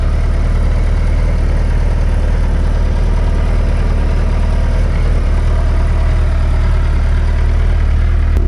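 A 2020 Suzuki Hayabusa motorcycle idling just after a cold start, a loud, close, steady low engine rumble holding even throughout with no talk.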